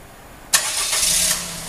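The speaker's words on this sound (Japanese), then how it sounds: "エンジンが始動します。" Suzuki Spacia Custom small car engine starting by a Grgo remote starter, a sudden crank burst that settles into a steady idle, close and fairly loud.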